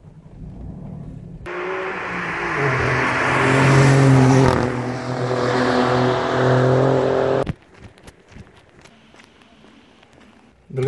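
An Alfa Romeo Giulia Quadrifoglio engine fires up with a loud bark from the steering-wheel start button and revs hard for several seconds, then cuts off abruptly, leaving quiet clicks and faint background sound.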